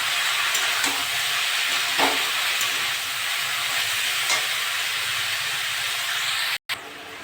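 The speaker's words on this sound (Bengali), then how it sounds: "এটা নেড়ে চেড়ে একটু ভেজে নিয়েছি।" Long beans, potato and pointed gourd fry in a pan with a continuous hissing sizzle, occasional soft stirring scrapes, close and even, briefly cutting out near the end.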